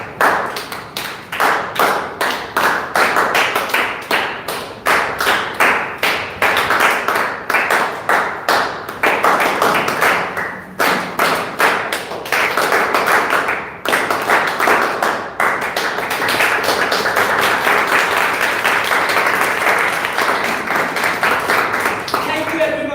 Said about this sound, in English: You have to clap for twice.